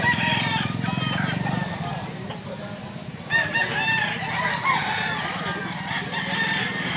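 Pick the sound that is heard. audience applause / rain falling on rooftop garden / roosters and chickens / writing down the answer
roosters and chickens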